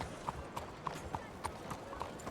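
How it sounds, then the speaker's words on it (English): Horse hooves clip-clopping at a steady walking pace in the Western video game Red Dead Redemption 2, about eight crisp evenly spaced footfalls over a soft ambient background. "Her hooves don't sound shoed to me."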